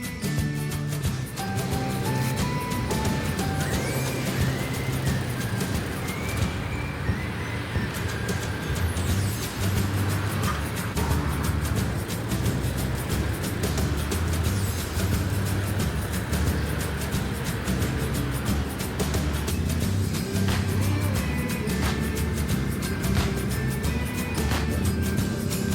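An automatic drive-through car wash machine works over a car with a rubber-sprayed bonnet, a continuous loud churn of motors, brushes and spraying water that shifts in tone as it moves along the vehicle.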